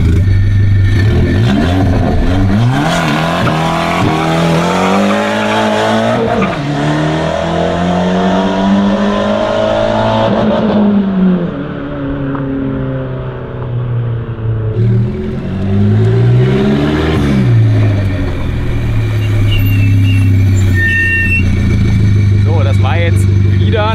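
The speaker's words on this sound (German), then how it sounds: "Das war jetzt aber definitiv ein bisschen zu viel durchgedreht, hat man richtig auch gemerkt." A front-wheel-drive car accelerates hard from a standstill toward 100 km/h with wheelspin, its engine revving loudly up through several gear changes, then easing off while someone speaks over it.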